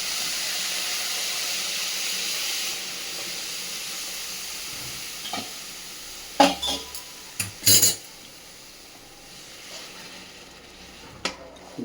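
Hot water poured slowly into a hot wok while making Bangalore-style kaara bath: steady hissing sizzle at first, then a few sharp metallic clanks of a spoon against the pan near the end, with no talking.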